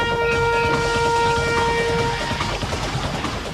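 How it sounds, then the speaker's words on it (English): Roller coaster train launching slowly along its track at night, a loud sustained rumble and rolling roar with steady tonal whines at the start that fade as the train moves. "They begin launching the train at slow speeds"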